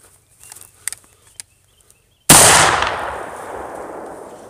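PGO scattergun shotgun firing a single buckshot round outdoors at a 10-yard target, one loud sharp blast with a long fading echo, preceded by quiet small clicks and handling noises.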